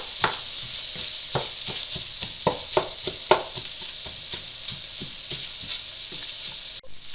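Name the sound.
onions and garlic frying in bacon fat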